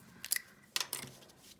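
Scissors are picked up and handled near a card-making craft table, giving two brief metallic clicking, snipping bursts in an otherwise quiet room.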